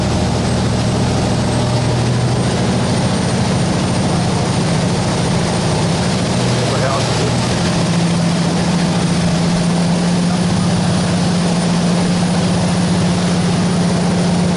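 Steady engine drone of a riverboat ferry speeding along a canal in Bangkok, heard from the front seat, a continuous low rumble with strong low hum and broadband wash throughout.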